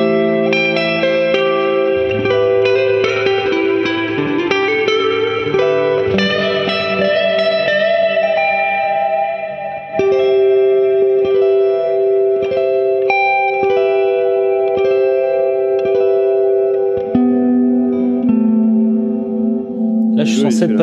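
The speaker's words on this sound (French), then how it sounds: "t'as le son de guitare qui s'arrête en plein bend et après ça continue quand même de réverbérer." Electric guitar played through a reverb effect, with sustained bent notes and chords that ring on in a long reverberant tail after the playing stops, loud and close, without talk.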